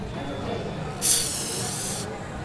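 A spray bottle fires one burst of about a second onto an iPhone screen, a sharp bright hiss rising over low background murmur.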